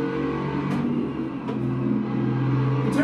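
A race car in a VR racing game drives a lap, its engine droning steadily and rising in pitch as it accelerates, with brief revving surges as gears change.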